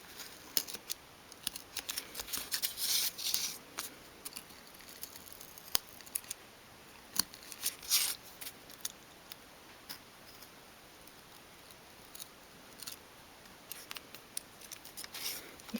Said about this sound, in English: Cut out that little section first.